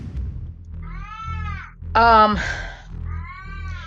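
A pet cat meows three times, the first and last drawn-out and wavering, the middle one louder and sharper, all behind a steady low hum in an indoor room.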